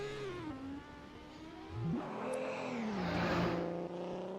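Ferrari engine in a drift racing video game, a continuous revving whine that rises and falls in pitch as the throttle changes, steady and fairly loud with no talking.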